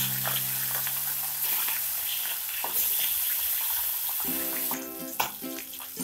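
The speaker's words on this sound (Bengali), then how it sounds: "তেলটা গরম হয়ে গেছে। এবার আমি এর মধ্যে দিয়ে দেব মাছগুলো।" Pieces of rohu fish go into hot oil and start to fry, a busy sizzle and crackle with a few clinks and stirring sounds, the sizzle growing louder partway through, no voices.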